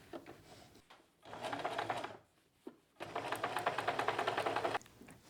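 A sewing machine stitches through quilt fabric in two rapid bursts, a shorter run then a longer steady one, with a brief pause and a soft clunk as the piece is turned between them.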